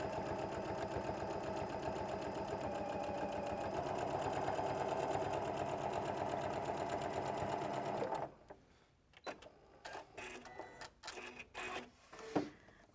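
A sewing machine runs steadily while stitching a rolled hem, a loud continuous mechanical whir for about eight seconds, then stops, leaving scattered clicks and light handling noises of fabric and the machine.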